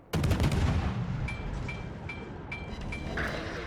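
Naval gunfire in the video game World of Warships, a deep booming salvo at the start followed by a rumbling tail and a series of faint, regularly spaced beeping ticks.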